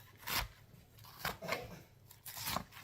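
A knife slices through a head of cabbage in a few crisp, crunchy cuts, each a short rasping burst with brief pauses between, close and quiet.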